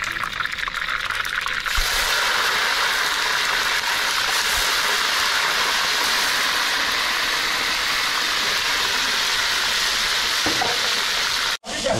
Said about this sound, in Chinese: 先油炸一下啊